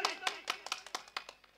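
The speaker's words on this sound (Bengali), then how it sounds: "হাততালি হাততালি হাততালি" A handful of people clap sparsely at a jatra theatre performance, about ten separate, slightly uneven claps close by over a second and a half, fading in strength toward the end.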